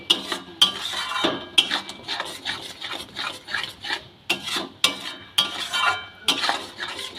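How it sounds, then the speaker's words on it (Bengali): Green banana peel paste being stirred in a pan on a gas stove, repeated close scraping and rasping strokes in an uneven rhythm, with no voices. "সমানে এইভাবে নেড়ে যেতে হবে"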